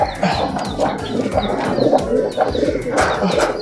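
A Katta Mooku homer pigeon coos repeatedly up close, with low rhythmic throaty calls rising and falling in a steady series, along with some soft rustling and faint chirps around it.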